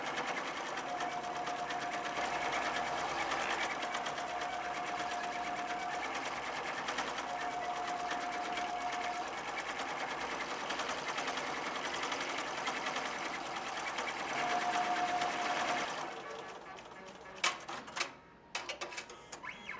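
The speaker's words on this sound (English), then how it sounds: "the machine sews the placement stitch for the second layer" A home embroidery machine steadily sews an appliqué placement stitch, a fast, continuous mechanical needle rattle held at an even level for about sixteen seconds. It then stops, and a few clicks and clunks follow as the frame moves out.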